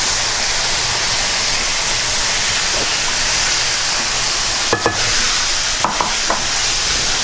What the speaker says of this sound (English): We're going to stir this and make sure it's mixed in.